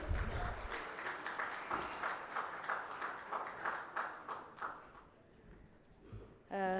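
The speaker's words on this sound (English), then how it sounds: "Let us welcome, with a big round of applause, Ms. Malak Al-Marsi." Audience applause welcoming a speaker at a talk on new UAE visa, labour and data privacy laws, steady clapping that thins out toward the end before a brief loud burst.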